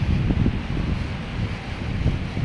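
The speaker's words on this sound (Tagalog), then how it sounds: "Ngayon, mahangin na siya na iba na yung klima ulit" Steady low wind rumbles and buffets the microphone throughout on an evening in the Middle East, a continuous rushing noise with no voices.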